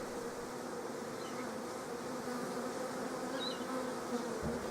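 Honey bees drone at a hive in a steady, continuous buzz, many insects humming together at close range with no voices.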